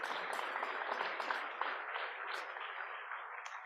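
Brief, fairly faint round of applause from an audience honoring the Boise Rotary Century Scholars of Frank Church High School, a steady patter of many hands that tapers off quickly.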